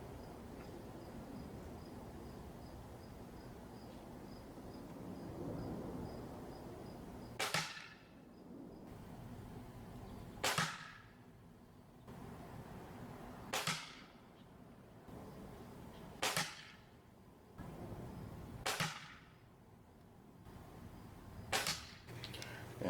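A Gamo Bone Collector Maxxim .22 air rifle with a new piston seal fires pellets, six sharp cracks spaced about three seconds apart over a quiet background hum.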